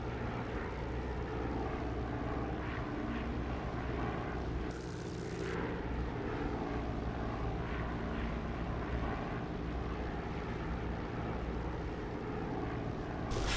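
A propeller aircraft engine drones at low throttle in a flight sim game, a steady, continuous hum with a faint high whine briefly rising midway; no talking.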